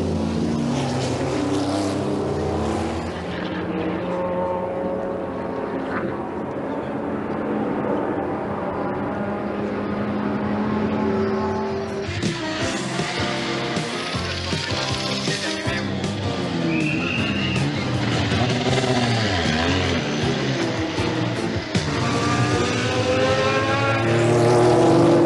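Porsche and Lancia race cars at the 1984 Le Mans 24 Hours roar past continuously, a loud sustained engine drone with shifting pitch sweeps as cars pass, blending with crowd and commentary-like voices in the background.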